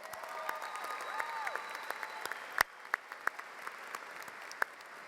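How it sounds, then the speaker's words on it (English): Applause from a large audience at a high school graduation ceremony at NJIT: a dense, steady wash of clapping that thins out partway through, leaving a few scattered claps near the end. "Let's give them a round of applause."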